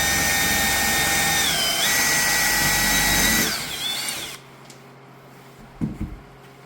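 A power drill bores holes for rivets while a Rocshield is installed, whining loudly and steadily for about three seconds, then winding down to quiet with a few faint clunks afterward.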